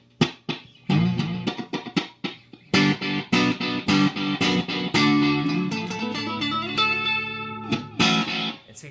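Klemt Echolette NG51 tape echo unit at its fast speed and longest delay, repeating plucked notes in quick rhythmic trails that stack and sustain, loud and close with no talking.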